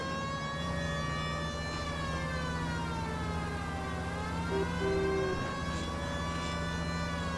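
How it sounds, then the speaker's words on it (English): A police car siren in the video game LA Noire wails steadily and loudly throughout, its rising and falling tone continuous over a low engine hum, with no talk. "Once again, I've forgotten I have a siren."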